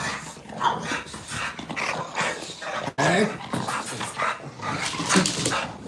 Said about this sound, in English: Micro bullies. Miniature pit bulls.